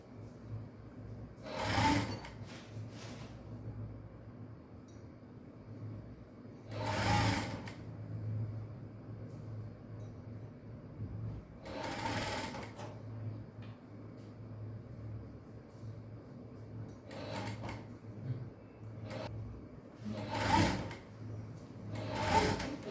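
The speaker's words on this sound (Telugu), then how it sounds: "ఒక హాఫ్ ఇంచుతో మనం స్టిచ్చింగ్ అనేది స్టార్ట్ చేయండి. చిన్నగా స్టిచ్ చేయండి, లాగొద్దు." A sewing machine stitches a princess-cut blouse seam in bursts, steady whirring runs recurring every few seconds with quieter gaps between, close and loud, no speech.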